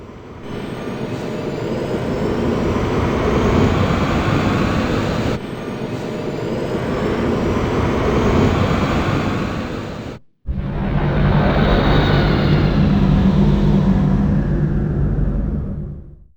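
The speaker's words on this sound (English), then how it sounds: "Cleared for takeoff, Colonel." A fighter spacecraft takes off in the Wing Commander 3 video game, a loud, steady engine roar with a jet-like hiss that cuts out briefly and then surges back just as strongly, with no talk.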